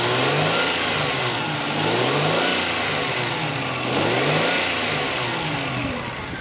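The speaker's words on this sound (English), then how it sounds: "Rev it up a little bit slowly." A 1998 Toyota Tacoma pickup engine revs steadily in several slow, rising and falling swells, loud and close, with no talking over the engine note.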